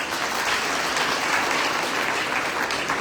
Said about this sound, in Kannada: ಅದಕ್ಕೊಂದು ದೊಡ್ಡ ಚಪ್ಪಾಳೆ